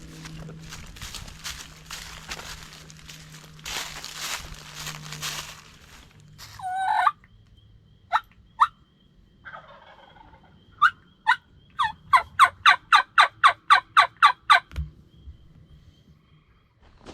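A wild turkey gobbles in the field, a burst of sharp, rapid-fire calls ringing out fairly close after some soft rustling and footsteps, with faint earlier calls and quiet gaps between.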